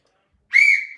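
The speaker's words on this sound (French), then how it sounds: "Siffle." A single person gives a short, clear whistle, a steady sustained tone that begins abruptly and fades out over about half a second, alone without talk.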